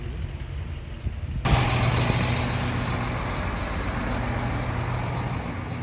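A farm utility vehicle's engine starts up abruptly and keeps running with a steady, fairly close low rumble, following a quieter stretch of background noise.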